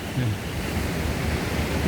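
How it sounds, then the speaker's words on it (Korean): Sea waves break steadily on the Donghae coast at Dochaebi-gol under a cloudy, windless sky, a continuous broad roar of surf close by. "바람은 불지 않는데 하늘에 구름이 있어서 그런지 파도가 많이 칩니다"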